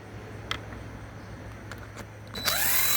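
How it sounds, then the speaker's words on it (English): Brief clicks and ticks of a power tool fitting onto the bottom bolts of a lawn mower carburetor, then a loud whirring burst as the 7mm bolts start to spin loose, all close up. "I take these bottom bolts off,"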